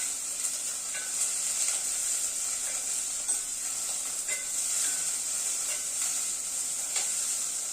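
Peas and cauliflower fry in oil over high heat, giving a steady loud sizzle with faint stirring clicks throughout and no voices.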